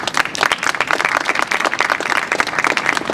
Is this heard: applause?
yes